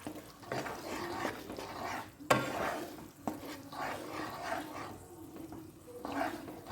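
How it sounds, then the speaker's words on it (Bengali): Tomato puree sautéing in a pan for chana masala: a faint, close sizzle and wet bubbling, with intermittent scrapes and clinks of a spoon stirring. "টমেটো পিউরিটা দিয়ে প্রায় 1 মিনিটের মতন এটাকে সাঁতলাবো।"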